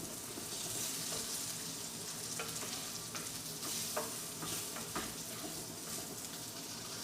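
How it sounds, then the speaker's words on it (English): A batch of breaded chicken fingers fries in oil in a pan, making a dense, continuous crackling sizzle with occasional stirring knocks, steady and close, with no voices. "I'm going to fry up this batch"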